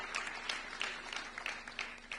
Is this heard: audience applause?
yes